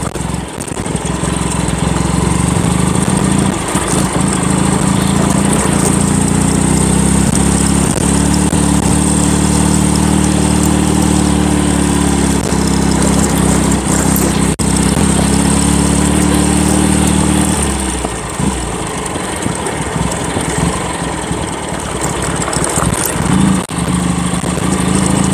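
A motorcycle engine droning steadily while ridden slowly along a potholed road through a forest, loud and continuous, with the tone easing slightly toward the end.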